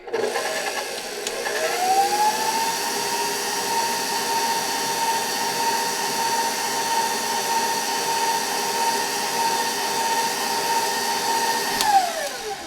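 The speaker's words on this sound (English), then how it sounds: "We're only gonna mix this just until it's combined, so we're not gonna overmix it" An electric mixer spins up, holds a steady whirring drone while combining flour into brownie batter, then winds down at the end, with no talking.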